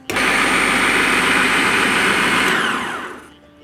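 A food processor runs loud and close, blending flour, butter, salt and sugar into pastry dough, its steady motor whine holding for about three seconds before spinning down to quiet, with no talking.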